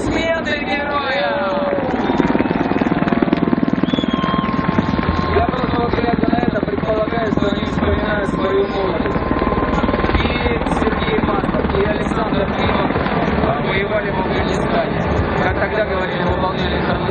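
Loud, steady drone of a Mil Mi-26 heavy transport helicopter's rotor and engine throughout an air show, with a crowd murmuring and a voice over a loudspeaker layered on top.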